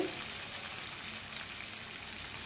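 Chopped green chillies frying in oil in a pan for a ridge gourd and peanut curry, giving a steady, even sizzle that runs close and loud throughout with no talk.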